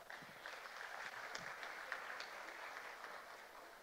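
Audience applause at a university ceremony honouring a guest, steady clapping from a crowd lasting a few seconds, moderately distant and fairly even throughout.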